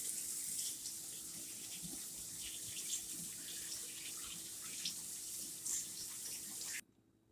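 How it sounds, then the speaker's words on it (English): Tap water runs steadily into a sink during handwashing in a home kitchen, a constant close splashing hiss that stops abruptly at the end, with no talking. "Okay, I'm washing my hands."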